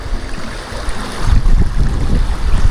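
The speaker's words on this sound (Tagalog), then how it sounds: "Ang lakas ng agos." A stream swollen by flood water rushes with a strong current, making a loud, steady roar of churning water that swells slightly partway through.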